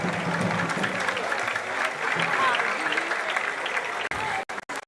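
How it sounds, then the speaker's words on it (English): Dense, steady applause from a large audience at a national science and maths quiz grand finale in Ghana, loud and continuous for about four seconds before breaking off abruptly into a few scattered claps. "A round of applause to all of our sponsors"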